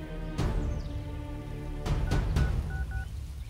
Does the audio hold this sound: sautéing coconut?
no